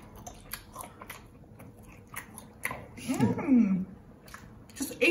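Close, wet chewing and biting on seafood boil meat during a mukbang, with soft smacking bursts that grow louder toward the middle and end, plus faint murmuring and vocal sounds around them.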